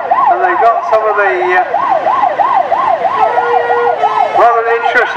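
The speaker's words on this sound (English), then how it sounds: "Fire engine now, this is the Shrewsbury one" A fire engine siren wails in a steady up-and-down cycle at a vehicle parade, loud and close, with the rumble of traffic underneath.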